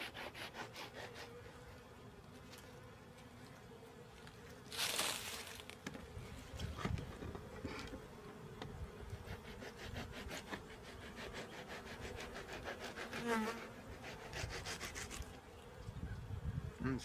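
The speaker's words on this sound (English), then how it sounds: "You can trim that with your knife if you want to." A knife trimming a bulging comb in a beehive frame during a spring hive inspection, soft repeated scraping and cutting strokes over a steady hum of buzzing bees, faint and close.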